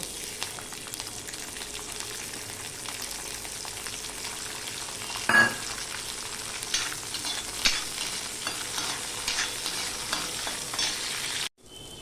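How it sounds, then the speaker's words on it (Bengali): Raw peanuts frying in a little oil in a wok give a steady, fairly quiet sizzle with scraping stir noises and a brief louder clatter midway, then cut off abruptly near the end. "এবার এই কাঁচা বাদামগুলো আমি এখানে অল্প তেলে ভেজে নেব"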